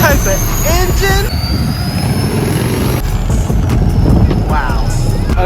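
Engine revving loudly at a street car show during a cruise event, a rough, rumbling roar up close that swells and holds. Excited voices talk over it throughout.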